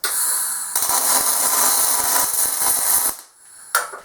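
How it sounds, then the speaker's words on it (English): A magnetic drill running an annular cutter through steel: a loud, close, steady high whine with grinding chatter for about three seconds, then the motor spins down and a brief burst follows. "You're going to want to use what's called an annular cutter, and if you don't own a mag drill, rent one."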